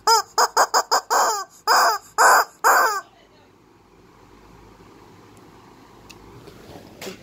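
A green chicken clucks in a rapid series of loud, close squawks for about three seconds, then falls silent, leaving faint room noise.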